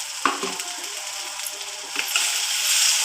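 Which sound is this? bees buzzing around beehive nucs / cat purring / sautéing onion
sautéing onion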